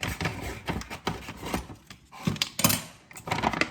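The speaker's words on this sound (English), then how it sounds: "I have my kitchen shears to cut the bag open." Kitchen shears snip and crinkle open a plastic bag of beer bread mix close by, with a run of short, irregular cuts and rustles.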